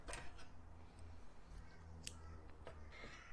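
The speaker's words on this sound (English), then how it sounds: "Now I like to cut the black yarn" Scissors snip black yarn during crochet work, a few faint, soft clicks and cuts close by in a quiet room.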